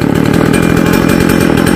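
A small, short-bar chainsaw with a loose chain runs loud and close at high revs, cutting into a large eucalyptus tree with a steady buzzing drone.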